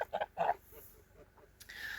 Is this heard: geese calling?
yes